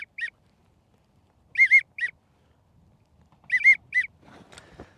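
Short whistled duck-call notes imitating a widgeon in quick bursts, paired and triple chirps with pauses between, followed by faint rustling at the end.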